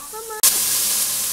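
After a brief low tone, a seared ham bone and vegetables hit a hot pot with a sudden loud sizzle that settles into a steady, bright frying hiss.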